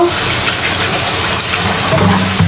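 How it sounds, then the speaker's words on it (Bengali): Water is poured into a cooking pan set up for hilsa fish with salt and oil, a steady close gushing pour that runs loud and continuous from start to finish. "পানি দিয়ে দিই।"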